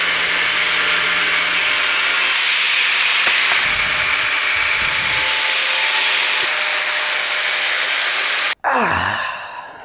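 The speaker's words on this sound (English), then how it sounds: "The best cut I've ever done with a grinder." An angle grinder cuts metal tube while a dirt jump bike is being built, a loud, steady abrasive whine running for several seconds, then cutting off sharply and spinning down with a falling tone.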